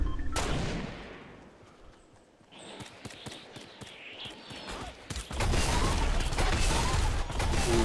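Gunfire in the video game Fortnite, a burst of sharp shots in quick succession followed by a dense, loud stretch of continuous firing and game noise, with no talk over it.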